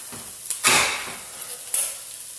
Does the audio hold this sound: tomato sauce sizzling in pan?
yes